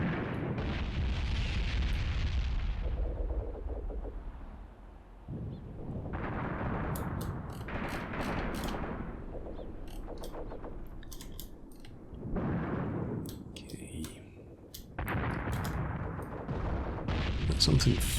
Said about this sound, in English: Something firing up there. Have they got artillery back in the woods?